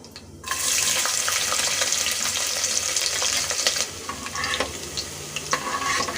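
Ginger garlic paste sizzles in hot oil with whole cinnamon, cloves and cardamom, starting with a sudden loud burst of frying and then settling into steady, close crackling broken by brief stirring scrapes.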